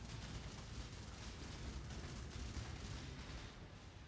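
A boss's carpet bombing attack rumbles in Path of Exile, a dense continuous barrage of blasts and booms in an arena, loud and sustained without pause for several seconds.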